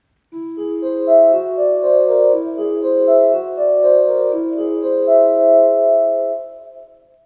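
A whole tone scale of sustained, clear pitched notes played smoothly in a stepwise run, ringing one into the next for several seconds with no voices.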